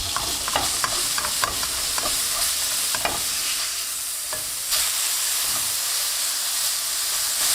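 A beef patty searing on a hot griddle, with a loud continuous sizzle and hiss, broken by a series of sharp scraping strokes of a spatula as it is turned.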